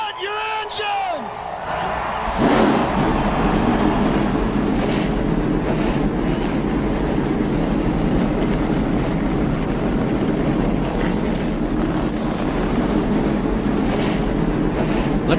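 Stock race cars at a Cup Series race fire their engines at the start, a dense roar that swells in around two seconds and holds loud and continuous, with a voice audible briefly at the opening.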